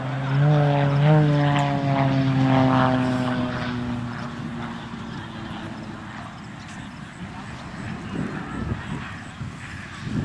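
A propeller airplane drones steadily at an airshow, with a rising tonal whine at first that fades into broad engine rumble and wind noise as it comes down to land.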